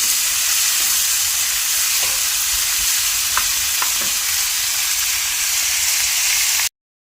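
Flour-coated chilli paneer fries in oil in a home kitchen with a loud, steady sizzle and a few light clinks of stirring, then cuts off abruptly. No one speaks.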